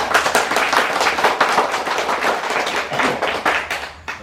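A room of people, gathered to elect officers for an organization, claps their hands together in a sustained, dense round of applause lasting several seconds, close and fairly loud with no voices over it.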